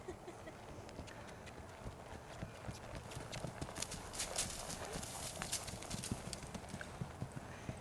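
A green pony cantering under saddle, its hoofbeats thudding in a rhythmic three-beat pattern from a moderate distance over a soft background, fairly quiet and continuous with no voices.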